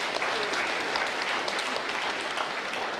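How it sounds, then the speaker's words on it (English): A packed hall audience gives a round of applause at a university event, dense continuous clapping from many people, loud and even across the whole stretch with faint crowd murmur beneath. "So if we give them another round of applause,"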